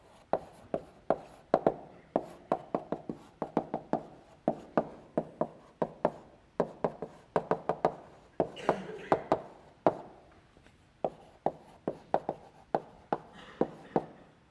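Chalk tapping and scraping across a lecture-hall blackboard in repeated short strokes, mostly steady rhythmic clicks, with a lecturer talking between them.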